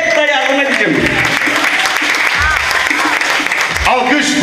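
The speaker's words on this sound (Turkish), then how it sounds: "Alkış bu güzel sözlere gelsin." A wedding crowd breaks into loud, continuous applause at a Turkish wedding ceremony in Karnobat, mixed with cheering voices and music, sustained at full volume for the whole stretch.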